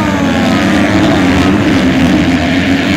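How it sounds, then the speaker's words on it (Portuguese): A pack of MX2-class 250cc motocross bikes revs hard at the start gate of a race in São Gonçalo do Rio Abaixo, a loud, dense and continuous engine drone close by. "Sobe o giro dos motores."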